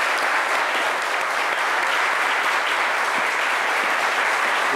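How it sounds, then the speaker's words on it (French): A studio audience gives loud, sustained applause, a dense and unbroken wash of many hands clapping at full strength from start to finish. "Sous les applaudissements de nos chers amis du public."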